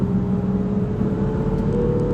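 Steady engine hum and road roar inside the cabin of a 2015 Range Rover Sport V6 under gentle acceleration, a low continuous drone that stays even and subdued throughout.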